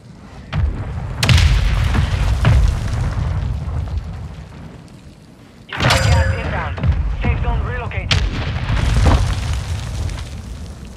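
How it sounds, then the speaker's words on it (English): Mortar strike explosions in a video game, several heavy booms in two main bursts with a quieter lull between, loud and close with crackling debris after the blasts. "Mortar strike inbound."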